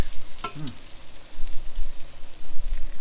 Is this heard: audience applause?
no